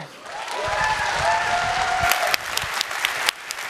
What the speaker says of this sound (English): please give a rapturous round of applause to Daisy and Nick